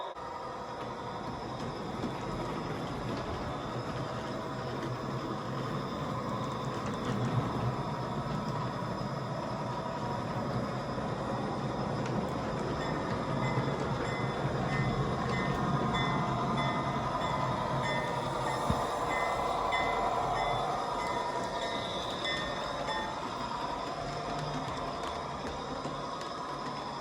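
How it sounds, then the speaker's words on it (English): Model trains run steadily on track, clicking and ratcheting as wheels pass over crossings, with a soft mechanical whir and occasional faint squeaks. "why don't we have a look at the trains going over the crossings"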